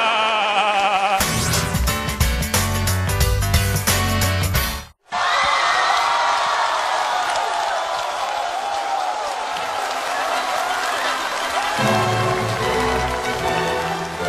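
A studio audience on a live television talk show breaks into loud sustained applause and cheering, a dense rain-like clatter of clapping that follows a burst of music and continues steadily after a brief cut.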